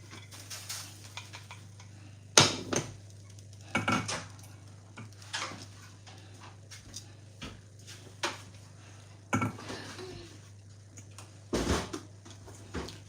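A metal pan is handled while being dried on the stove before cooking jollof rice, with scattered clanks and clinks of cookware and utensils over a low steady hum.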